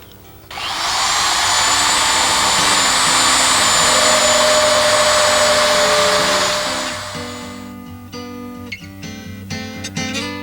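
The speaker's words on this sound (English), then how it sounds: "drill the screw holes through the door at the marked spots" A power drill whines loudly and steadily for several seconds, its pitch dropping as it bores through a door, then trails off into scattered clicks and rattles.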